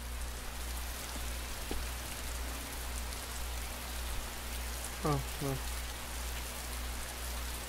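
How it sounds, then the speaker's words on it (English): Soft, steady rainfall patters in the video game Heavy Rain over a low constant hum, with a couple of brief chirpy electronic blips partway through. "Alright, it's dark, rainy."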